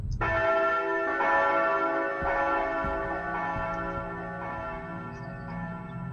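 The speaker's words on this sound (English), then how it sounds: "We have to use the curtain time bell." A resonant bell from Castlevania: Lament of Innocence, the curtain time bell, rings out with a long sustained metallic tone that slowly decays over several seconds, struck again partway through, with no talking.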